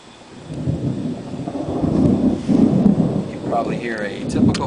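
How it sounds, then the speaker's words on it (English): Low rolling thunder from a Florida afternoon storm rumbles in waves, building and fading over a few seconds, with a soft wash of rain in the background. "Probably hear a typical Florida afternoon storm coming along."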